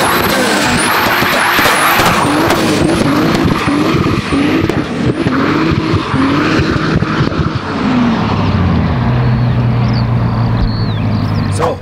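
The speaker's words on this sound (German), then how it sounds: "Wir fahren auf unsere abgesperrte Straße." Turbocharged VW Golf 2 driving hard on a closed road, loud engine with repeated revving surges and gear changes, turbo whistle and wastegate chatter between shifts, then settling into a steady drone.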